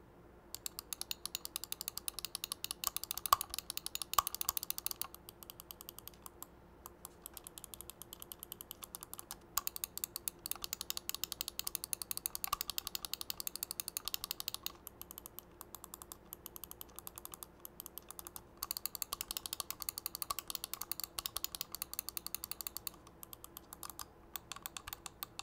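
A fingertip grip computer mouse gives faint, close clicking and scroll wheel ticking in quick irregular bursts, broken by short pauses and with no talk.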